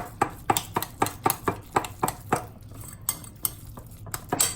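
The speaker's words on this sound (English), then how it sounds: "So once your cheese is melted together with your cream cheese, mix it all together." A utensil stirs melted cheese and cream cheese in a bowl, producing a quick regular series of close, sharp clinks and scrapes against the dish.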